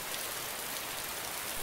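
Steady rain pours down continuously in the survival game DayZ, a dense, even hiss of drops with no voices over it, moderately quiet throughout.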